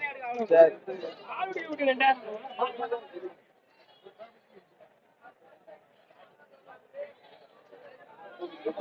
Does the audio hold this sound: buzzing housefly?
no